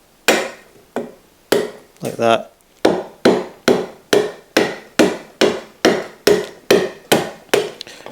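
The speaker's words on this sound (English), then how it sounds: "all I need to do is give it a dunt with a hammer" A hammer strikes a freshly sharpened 25mm chisel into wood while cutting tenons for a workbench: about a dozen sharp, close knocks in a steady rhythm, each with a short decay, and a brief spoken remark among them.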